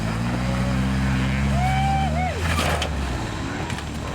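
The steady engine of a truck that has just rolled over runs on with a low, even drone and a few higher tonal whines drifting over it.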